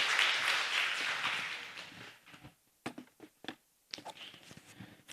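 Church congregation clapping in applause, a dense burst for about two seconds that thins into scattered claps and fades into quieter, broken sounds.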